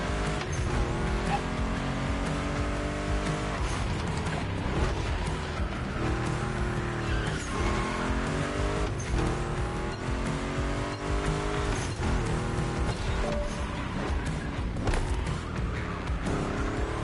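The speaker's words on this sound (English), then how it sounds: "Like, you see that skidding?" Car tires skidding and squealing in The Crew Motorfest racing game, a continuous engine drone with repeated long tire squeals over a busy race mix.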